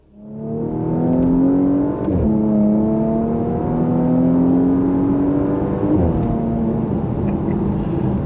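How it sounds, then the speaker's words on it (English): A stock Porsche sports car engine revs and pulls through the gears while driving, rising in pitch with brief dips at each shift, loud and close. "this car sounds so good, and it's totally stock"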